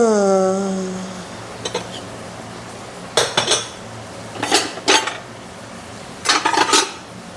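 A metal pot clanks and rattles in a home kitchen, several bright knocks and scrapes in short clusters, close and clear, with no talking.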